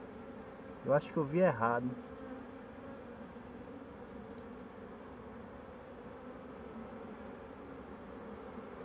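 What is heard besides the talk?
honeybee swarm buzzing in a tyre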